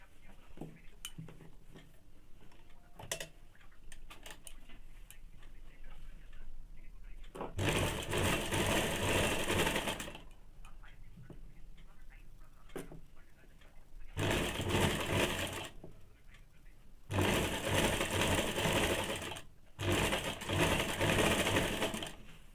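A sewing machine stitches a strip onto a two-piece Bombay cut blouse in several loud, steady bursts of a few seconds each, separated by quieter pauses with faint handling noise.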